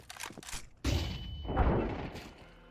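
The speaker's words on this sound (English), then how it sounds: "Flashbang." A flashbang grenade bursts in Counter-Strike 2 during a major tournament match, a sudden loud bang after a few short clicks, followed by a ringing tone and a fading, noisy wash.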